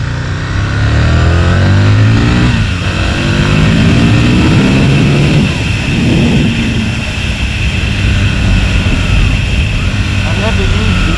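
A motorcycle engine drones while riding, buried under a loud, continuous rush of wind, with a voice talking over the roar.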